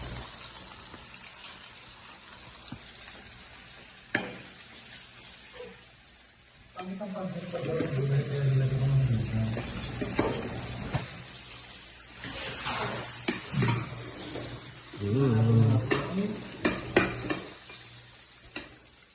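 Food stirred and frying in a pan: scraping and clattering utensil strokes over a soft sizzle, starting after a quiet opening and coming in irregular bursts, with talk around it.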